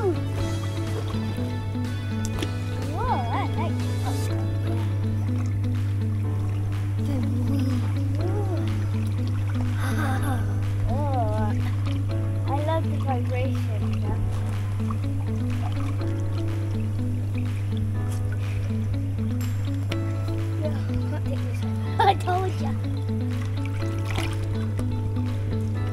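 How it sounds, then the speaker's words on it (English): Hot tub water at night on a Cornwall glamping trip, with a constant low pump hum under soft sloshing and trickling, while voices talk and exclaim over it throughout. "It's nighttime and we're going in the hot"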